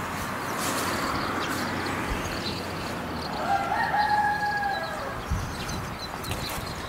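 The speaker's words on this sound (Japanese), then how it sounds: "ニワトリが鳴いてるっていう。" A rooster crows once at a distance, a faint, drawn-out call rising over a steady outdoor hiss in the middle of the stretch.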